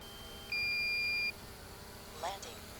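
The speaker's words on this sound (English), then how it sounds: "now it's beeping at me" A drone sounds its low-battery warning during a vegetable garden tour: a steady, loud electronic beep held for under a second, faint voices and wind noise behind it.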